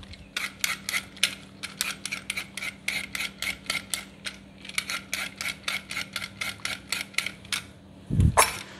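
Quick repeated scraping strokes of a knife peeling skin off a cucumber, a steady run of short rasping bursts close by, ending with a duller knock.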